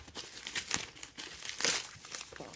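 A knife slices open a cardboard box holding a watch, giving a scratchy, crinkling tear in a few uneven bursts, close and fairly quiet with no talking.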